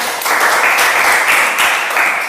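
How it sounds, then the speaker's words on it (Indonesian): Sustained applause from a school classroom, many hands clapping steadily and fairly close for a couple of seconds with slight swells in intensity. "Berikan tepuk tangan untuk kita."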